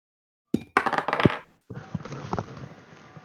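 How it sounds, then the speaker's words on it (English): Dice clattering across a table during a tabletop Dungeons & Dragons session: a couple of quick rattling bursts, a short pause, then a softer stretch of tumbling clicks, close and without talk. "it's never good to hear just a random dice rolling"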